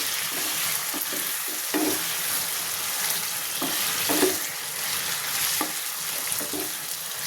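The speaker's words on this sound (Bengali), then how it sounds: "তো হালকা একটু কষাই নিচ্ছি মশলায়।" Tengra fish being lightly fried and stirred in spice masala, a continuous sizzle broken by repeated spatula scrapes at an irregular rhythm, close and moderately loud, with no talking.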